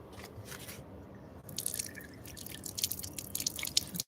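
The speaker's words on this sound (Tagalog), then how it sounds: "Hugas tayo ng ating kamay." Hands are washed under running water outdoors near a barbecue grill. Dripping and splashing come close and moderately loud, growing busier with wet rubbing sounds partway through.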